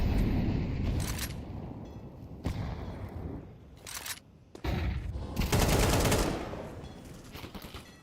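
Bursts of automatic rifle fire and single gunshots crackle in a Counter-Strike pro match between Eternal Fire and Volt, loud and close, arriving in several sharp volleys with short gaps between them.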